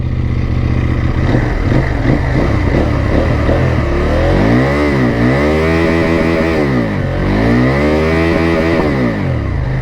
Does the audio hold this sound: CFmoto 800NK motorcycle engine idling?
yes